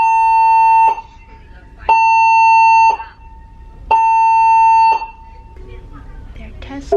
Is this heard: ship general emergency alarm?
yes